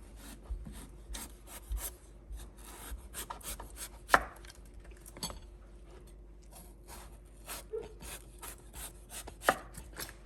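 A knife trims the skin and green parts from a winter melon on a chopping board in a home kitchen, making soft scraping and rubbing strokes with a few sharper cuts, close and with no talk.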